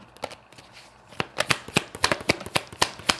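Tarot cards riffled and shuffled by hand, a soft rustle building into a run of crisp, evenly spaced card snaps, close and clear with no voice.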